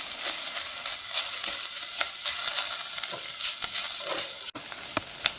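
Carrots and onions softening in a frying pan give off a continuous hissing sizzle, broken by scrapes of stirring and one sharp clack.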